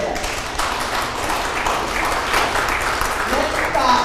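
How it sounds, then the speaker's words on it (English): Audience at an educators' gathering on a reservation breaks into a dense round of applause, loud and sustained, with faint voices mixed into the clapping. "Give me a round of applause."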